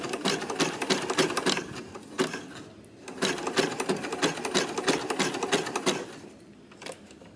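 A sewing machine stitches a fabric-wrapped rope coil for a bowl base, running in rapid mechanical bursts with short pauses between runs, close and clear with no talk.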